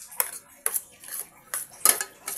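Utensils scrape and clink against a bowl while fried banana blossom is mixed until sticky, in short sharp strokes about every half second, close and alone.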